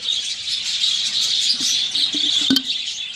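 A budgerigar colony with chicks keeps up a dense, continuous chatter of high chirps and tweets, steady throughout with a few louder squawks near the end.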